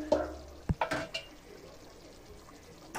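A spoon stirs mutton curry cooked with yogurt in a pot, giving a few short scraping clacks in quick succession, then quiet simmering and one more knock at the end.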